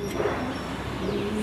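A racer pigeon in its breeding condition coos softly and continuously at close range, the low murmuring calls running steadily with no voices present.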